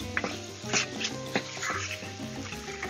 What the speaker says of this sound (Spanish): Removemos bien.